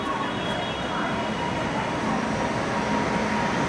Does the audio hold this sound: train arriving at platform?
yes